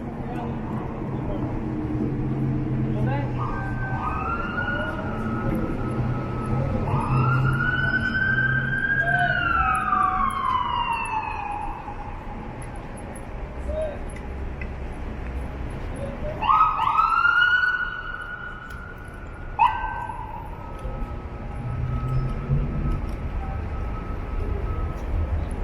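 Ambulance siren wailing through backed-up downtown traffic at Yonge and Gerrard in Toronto, rising and falling sweeps drawing near over a steady rumble of engines, with a sharper burst and horn-like blast near the end as the vehicle pushes through.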